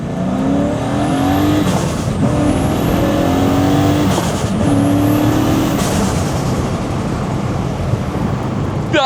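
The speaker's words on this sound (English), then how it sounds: "That blow-off valve's noise as well." A cheap turbocharged V8 car of about 450 horsepower accelerates hard, its engine note climbing through repeated gear pulls, with blow-off valve whooshes between shifts, loud and steady throughout with no talking.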